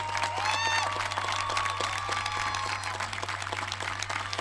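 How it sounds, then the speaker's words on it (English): Graduation ceremony crowd applauding students and military families, a continuous wash of clapping with a low steady hum underneath and brief tonal squeaks or whistles early on, moderately loud and filling the whole stretch. "Let's give them a round of applause."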